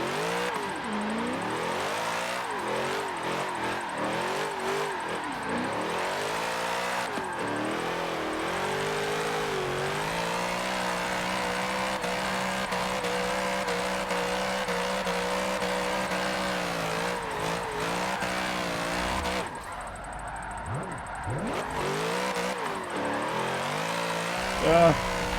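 A tuned race car lapping in Forza Motorsport, its engine droning and climbing through long revving pulls with gear changes, loud and continuous.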